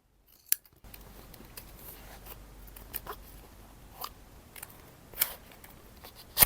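Scissors cutting cardboard for a DIY box organizer, a handful of separate crisp snips spaced a second or so apart, close and quiet in an otherwise hushed room.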